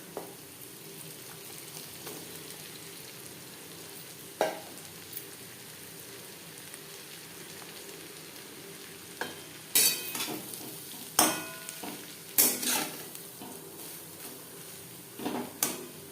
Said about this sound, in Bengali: ঘির সাথে গাজর বেশ ভালো করে মিক্সড করে দেব।